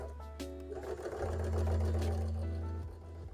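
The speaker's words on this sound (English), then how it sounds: "now excuse me while I sew these horns up real quick." A sewing machine runs in one continuous burst while sewing horns onto a Gengar-style hat, a close, steady motorised whir with a low hum underneath.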